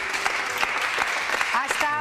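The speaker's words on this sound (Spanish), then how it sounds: "Un aplauso, porque yo creo que ahí ha estado" Applause from an audience, a dense patter of clapping mixed with voices and shouts, fairly loud and continuous.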